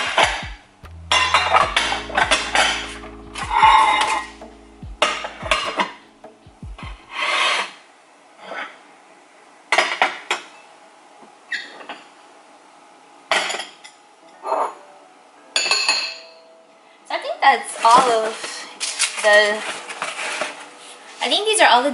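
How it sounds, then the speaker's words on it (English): Ceramic dishes from Walmart are lifted out of a box one after another, giving irregular bursts of clinking and rubbing with quiet gaps between, close and fairly clear, with someone speaking briefly. "I think these are all the dishes that come inside of this box."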